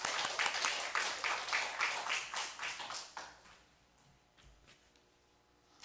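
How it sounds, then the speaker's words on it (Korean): A church congregation at a Sunday worship service bursts into rhythmic group applause, loud and full for about three seconds before fading to a few scattered claps. "하나님께 영광의 박수 올리겠습니다."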